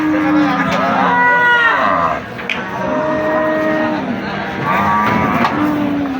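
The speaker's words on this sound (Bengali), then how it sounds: "এই যে দেখতে পাচ্ছেন বিশাল চারিদিকে শুধু গরুই আর গরু চলে যাইতেছে" Cattle being unloaded from a truck at a large livestock market moo loudly and repeatedly, several long overlapping calls close by, with low market bustle underneath.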